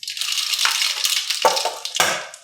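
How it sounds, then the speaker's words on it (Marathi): Mustard seeds crackle and pop in hot oil in a kadhai, a close, dense burst of sharp spattering clicks lasting a couple of seconds. "छान तडतडली मोहरी आपली"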